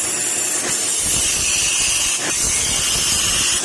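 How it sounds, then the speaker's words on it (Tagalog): Dense, loud hissing wash of noise like heavy rain pouring down, steady and close, with no voices. "Lakas ng ulan mga sir."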